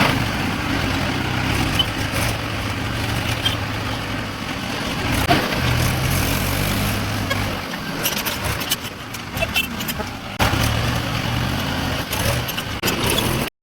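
A fully loaded tractor drives along a road toward Ramnagar. The engine gives a continuous rumbling drone with small rattles, and the load shifts in level along the way.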